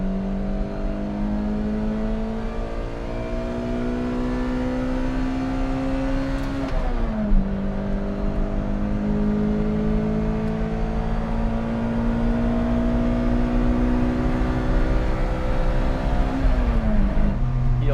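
A Lotus Elise engine revs hard and close through the gears all the way to 8,500 rpm, with a cam change partway. Its note climbs steadily, drops at each shift, then climbs again.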